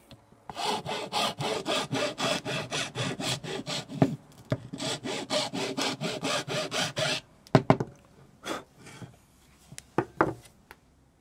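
A metal file rasps back and forth on a motorcycle tail light part from a Yamaha Virago or Kawasaki ER5, with about twenty quick, even strokes up close, then a few scattered scrapes and knocks.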